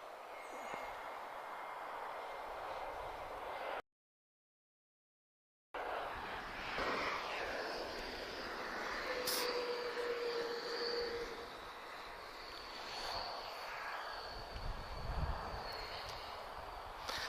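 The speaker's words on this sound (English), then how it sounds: "A321neo, TP643, just arriving from Brussels" Airbus A321neo airliner TP643 arriving at Lisbon Airport from Brussels, a distant, faint, steady roar with wind and broadband rumble that continues throughout, with a short gap of silence partway.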